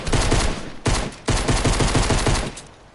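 Pistol gunfire in Fortnite: loud, close bursts of rapid shots, three volleys separated by brief pauses, with rhythmic repeated reports trailing off at the end.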